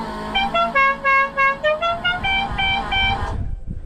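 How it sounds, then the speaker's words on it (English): A Dukes of Hazzard musical horn on a 1954 International truck plays its tune in a series of loud, close toots, the melody running for about three seconds before cutting off, followed by faint rustling. "blow the horn."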